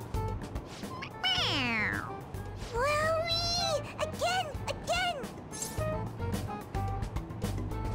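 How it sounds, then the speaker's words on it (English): A stuffed toy cat in Persona 5 Royal meows when pressed on its head, giving several loud, drawn-out meows in a row over background game music. "it's a stuffed animal. It meows when you press on its head"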